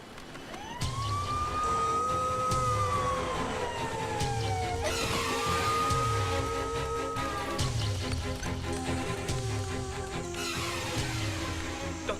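A wailing emergency siren rising and falling over a repeating low honk-like pulse, steady and loud as if passing nearby, with no talk.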